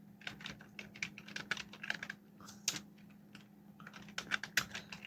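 Fingers tap out search keywords on a computer keyboard in quick, irregular bursts of soft clicks, close and quiet over a faint steady hum.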